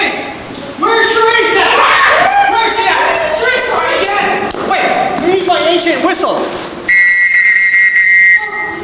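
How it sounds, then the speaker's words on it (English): Loud, wavering whistled tones repeat over several seconds, with a steady high-pitched whistle near the end and voices mixed in. "Whistle!"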